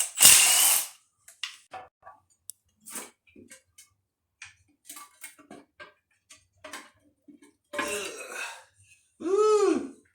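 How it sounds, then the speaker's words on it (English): A ratchet working engine bolts loose on an EM2 for oil pump shimming: scattered short clicks and knocks, then longer bursts of ratcheting, close by in a quiet space. "So just gonna have to drop all these bolts."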